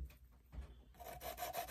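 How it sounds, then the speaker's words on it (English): A sanding stick rubs briefly across a glued roof tile in quick, close, scratchy strokes, fairly quiet, with no voices. "I can go ahead and sand that thing down"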